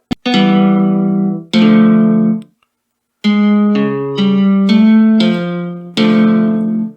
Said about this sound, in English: you got a pretty nice sounding acoustics guitar as well